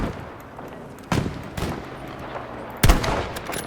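Gunfire in the shooter game Battlefield V: two sharp shots about half a second apart, then a louder single shot a moment later, over a low background rumble.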